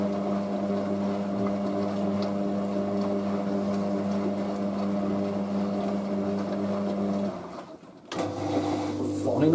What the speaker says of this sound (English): Final spin. Let's see how this goes.